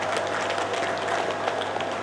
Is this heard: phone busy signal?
no